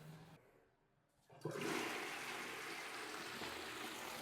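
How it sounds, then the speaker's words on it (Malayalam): A wall-mounted toilet flushes after a brief quiet start, then a loud, steady rush of water fills the bowl and continues to the end, heard close up in a small bathroom. "നമുക്ക് ക്ലോസറ്റ് ഫ്ലഷ് ചെയ്ത് വേറെ ലീക്കോ കാര്യങ്ങളൊന്നുമില്ല"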